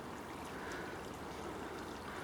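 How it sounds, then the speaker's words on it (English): A rapidly flowing stream rushes steadily past weed beds on a barbel and chub fishing stretch, a constant, faint, broadband wash with no other sounds. "rapidly flowing water"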